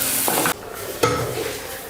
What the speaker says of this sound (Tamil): இப்போ இதை நல்லா வந்து எண்ணெயில் வறுத்துக்கலாம்.